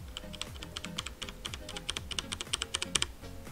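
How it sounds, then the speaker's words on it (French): A budget mechanical keyboard with brown switches typed on steadily, a rapid close stream of clacky keystrokes with a few louder hits, no talking. "on passe maintenant au quatrième clavier qui a des switch marrons."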